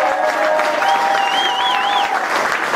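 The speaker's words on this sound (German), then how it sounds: "Einen kräftigen Applaus für den Matthias." Audience applause at a blues festival concert, dense steady clapping throughout with a sustained tone and a wavering whistle-like sound riding over it midway.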